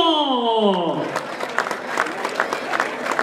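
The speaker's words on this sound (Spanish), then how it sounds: "El aplauso, mi público." An audience claps at a jaripeo rodeo event right after an announcer's voice fades out, scattered applause rising and continuing for a few seconds with crowd noise underneath.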